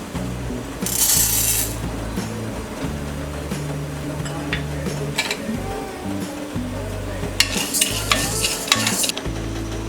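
Chana dal and urad dal dry roast in a pan with a steady sizzle, broken by repeated scraping stirs and bright clinks of a spoon against the metal, close and continuous with no talk.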